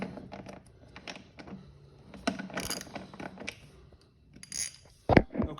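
A 9/16 socket wrench backing a bolt out of a pulley on a Toro TimeMaster mower: scattered soft ratchet clicks, taps and small metal clinks at close range, irregular and fairly quiet, ending with a sharper clank.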